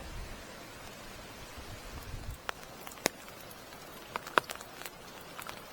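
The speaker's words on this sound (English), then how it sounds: "The rain's eased off a bit, but I'm still getting plopped upon from above by the trees" Scattered drips from trees patter onto an umbrella beside a car park pool after rain has eased, faint soft hiss with a few distinct, sharp plops spaced irregularly.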